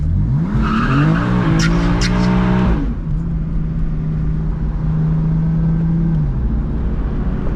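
A BMW M4 doing a burnout, engine roaring at high revs with tires squealing and burning loudly up close for several seconds, then the engine holding a steadier drone as the squeal settles.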